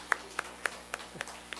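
Sparse claps from a small church congregation, about six evenly spaced hand claps over under two seconds, fairly faint and with no one talking.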